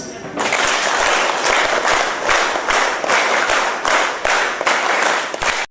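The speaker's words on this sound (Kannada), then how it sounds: "ಇವತ್ತು ನಾವೆಲ್ಲರೂ ಚಪ್ಪಾಳೆ ಮುಖಾಂತರ ಅರ್ಪಿಸೋಣ" Loud, sustained applause from a large crowd at a de-addiction camp gathering, dense rhythmic clapping filling the space for several seconds before cutting off abruptly.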